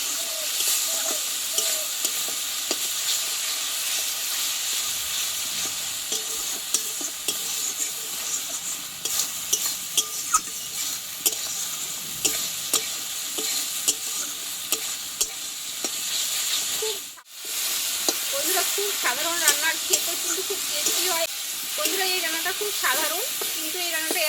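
Lentils fry with spices in a pan while being stirred, for a Bengali banana-stem (thor) dish. A steady close-up sizzle runs throughout with scraping stirs, broken by one brief pause.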